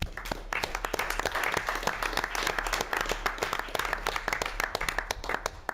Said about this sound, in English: Please join me in giving all of these dedicated staff a round of applause.